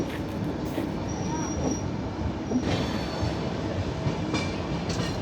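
Continuous rumbling rail noise as a diesel locomotive shunts a train at Ahmedabad, with rolling wheel clatter and faint squeals that carry on steadily throughout.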